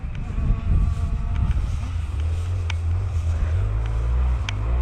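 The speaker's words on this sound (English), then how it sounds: "This is a Raptor 125 frame with a RM85 dirt bike motor in it." A dirt bike built from a Raptor 125 frame with an RM85 motor approaches through wooded trail crossings, its engine drone rising steadily and staying loud throughout, with wind buffeting the microphone.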